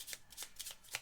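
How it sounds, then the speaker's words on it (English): A deck of playing cards being shuffled during a Final Hour board game session, with quick close riffling bursts in a brisk rhythm, faint and alone. "we're going to need to shuffle these here"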